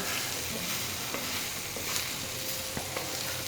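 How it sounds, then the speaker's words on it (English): Food caramelizing in a frying pan is stirred for a gourmet grilled cheese, giving a steady close sizzle with soft scraping strokes and no talking. "we'll stir this up a little bit, make sure I don't burn any of them"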